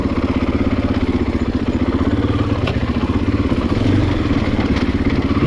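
2020 Husqvarna FE501S dual-sport motorcycle running on a trail, its single-cylinder engine thumping in a loud, rapid, even pulse with mechanical clatter, close and continuous.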